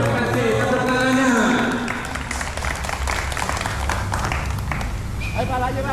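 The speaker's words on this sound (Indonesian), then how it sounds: "Terima kasih tepuk tangannya." Applause from a crowd of workers at a factory fire-fighting drill, a dense steady patter of clapping mixed with shouting voices and background commotion.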